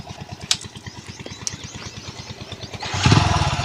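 A motorcycle engine runs close by with a steady, rapid, even thumping idle, a couple of sharp clicks early on, and the engine note growing louder and rougher in the last second.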